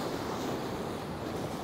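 Wind buffets the microphone while waves surge onto the sea shore near Arbroath, Scotland, a loud, unbroken wash of surf and gusts with no voices.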